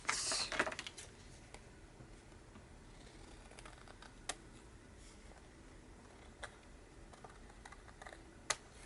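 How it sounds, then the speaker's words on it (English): Scissors trimming paper for an envelope pocket during a crafting session: a few sharp, quiet snips and clicks scattered across a hushed room, with no voices. "let's trim it"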